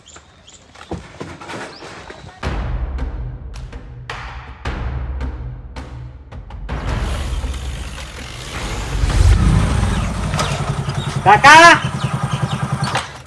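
A motorcycle engine runs close by with a steady low rumble that swells into revving toward the end, while people talk loudly over it in a comedy skit.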